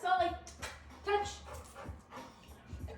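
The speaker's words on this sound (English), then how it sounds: "right now your dog's barking" A dog named Sulley yips and barks in short bursts, whimpering between them, while a person talks over the sound indoors.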